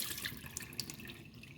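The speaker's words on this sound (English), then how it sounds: "We whirl it, get the water out" Water splashes and drains out of a sprouting jar of mung beans after rinsing, giving a short, close trickle with light drips and sloshing.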